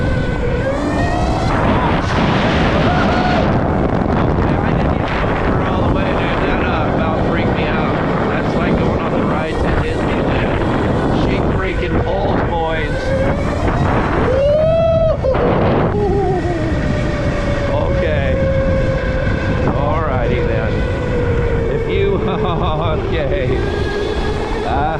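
An ETM electric bike on its first ride, heavily buffeted by wind roaring across the microphone, with a rising and falling motor whine and talk mixed into the rushing noise throughout.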